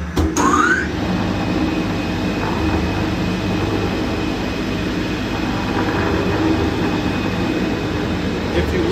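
A Fatosa bowl chopper runs at high knife speed with a loud, continuous mechanical roar and rumble, steady throughout after a brief whine at the start.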